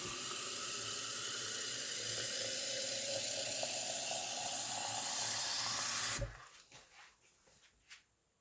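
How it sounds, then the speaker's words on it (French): Water streaming steadily into a Thermomix jug, a continuous rushing pour for about six seconds that stops abruptly, followed by a few soft clinks and handling knocks, close and quiet, no talking. "on va rajouter 900 ml d'eau"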